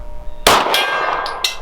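A Walther PDP Compact pistol shot strikes a 16-inch steel gong target at 50 yards: one sharp, loud metallic clang that rings on, followed by a couple of faint follow-up pings, with no talking.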